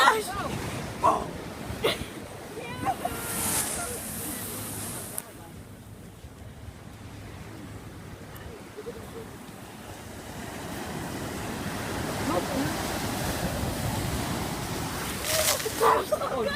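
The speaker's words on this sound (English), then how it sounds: "Look at it splash!" Ocean waves splash and wash onto a beach amid gusty wind buffeting the microphone, the surf rushing and receding in broad swells while people talk nearby.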